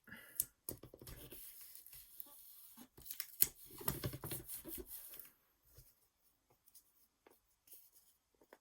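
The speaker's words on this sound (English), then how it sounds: "I'm just sort of holding it over the top to see if I've got it long enough, and then cutting." Scissors snip through a strip of tape during junk journal making, giving close, crisp cutting and rustling sounds over several seconds before things settle into near silence with a few faint ticks.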